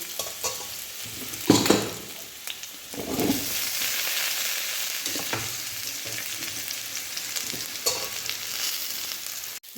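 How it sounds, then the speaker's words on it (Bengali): Potatoes, onion and carrots sizzle steadily in a pan, with several louder scraping stirs punctuating the continuous frying hiss; no one speaks. "গাজর আর আলু মোটামুটি একটু ভাজা হয়ে গেছে"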